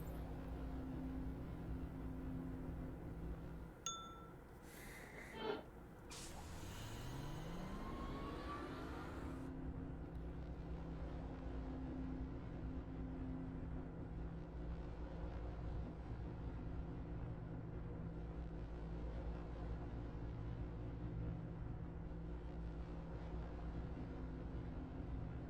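A train in the video game Myst rumbles with a steady low mechanical drone, a burst of whooshing and clanks early on, then a sustained hum, no voices.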